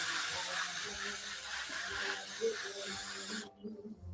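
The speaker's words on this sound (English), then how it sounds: "So here's the second spray." A spray bottle misting a tray of microgreens: a steady, loud hiss of fine spray running for about three seconds before stopping abruptly, leaving quiet handling noises.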